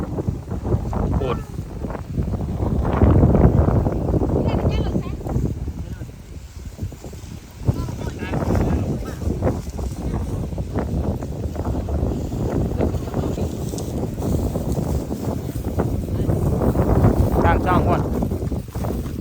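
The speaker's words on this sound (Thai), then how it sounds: "ลมพัดไปหมดละ" Strong wind from a rainstorm sweeps over a rice harvest with bundled rice, buffeting the microphone in loud, continuous gusts that swell and ease throughout.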